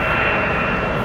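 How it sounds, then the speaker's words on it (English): Boeing 777-200ER jet engines, Rolls-Royce Trent 800s, roar steadily and loudly at close range near LAX, a dense continuous rush with no voices. "That one powered by Rolls-Royce Trent 800 engines."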